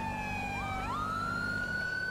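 Police car siren from GTA V with the LSPDFR mod, styled as an Ohio State Highway Patrol cruiser: loud, steady electronic tones that sweep upward and then hold, continuous with no voices.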